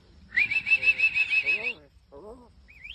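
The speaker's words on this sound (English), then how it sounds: "Can you do us one more whistle?" A common myna bird gives a long, steady high whistle with rapid warbling texture, followed by a couple of shorter, lower chirping notes and a brief rising whistle at the end, close by.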